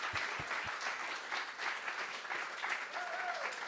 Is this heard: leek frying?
no